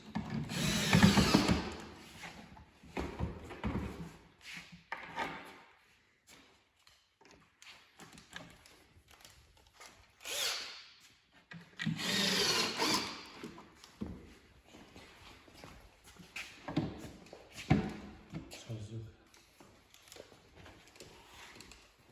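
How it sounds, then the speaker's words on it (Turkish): A power drill drives cabinet screws into a wooden chest of drawers during furniture assembly, in several short whirring bursts separated by quiet gaps, tapping and handling noises. "Kabin vidamızı bir iki el çevirdikten sonra sıkıyoruz."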